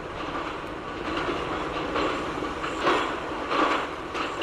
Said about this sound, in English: We are now departing Khandwa station. Signal is not clear but we are moving little further.